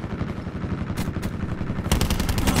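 Rapid automatic gunfire in a Call of Duty Black Ops 4 team deathmatch rattles in a dense, loud burst and grows sharper and heavier toward the end, with no voices.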